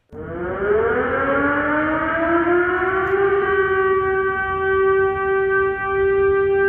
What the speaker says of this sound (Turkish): Hava saldırı sireni.